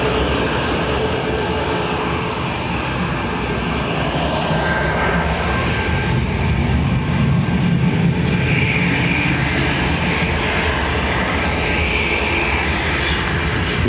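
Ryanair jet airliner roaring steadily at Dublin Airport, a loud continuous engine rumble with a broad whooshing wash that swells slightly midway as it powers along the runway for takeoff.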